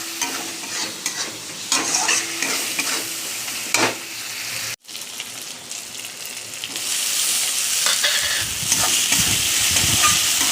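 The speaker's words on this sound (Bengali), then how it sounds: "এবার দেখো নাড়াচাড়া করে নেব।" Egg and potato frying in a pan with ginger, garlic, chili powder, cumin, turmeric and a little sugar are stirred, giving a continuous close sizzle with scraping strokes of a spoon against the pan.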